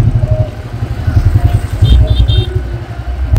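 Many motorcycles gathered at a roadside event: a low engine rumble and idling bikes nearby, with a few short horn beeps, under people talking.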